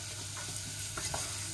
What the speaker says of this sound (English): Now that you see it's sizzling, you go to the next step.